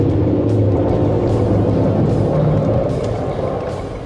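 GAC GS3 Emzoom with ESP switched off, braking hard into a corner on a race track; a loud, steady in-cabin engine and road rumble that eases slightly toward the end, no talking.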